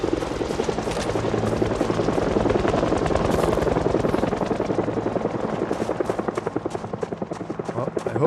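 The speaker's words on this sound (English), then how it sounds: "sound of the helicopter blades" Helicopter rotor blades in the video game Project Zomboid produce a loud, steady rapid chopping that thumps continuously throughout, slightly fading toward the end.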